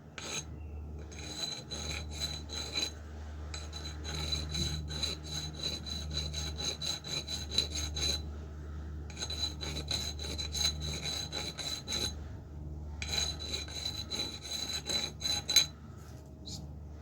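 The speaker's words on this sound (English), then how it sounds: "I need to use a nice little bit of a file. Just take some of them burrs off." A metal file takes burrs off an edge during a front-end upgrade on an Orange P7, rhythmic rasping strokes in quick repeated runs with brief pauses, close and fairly quiet, no talk.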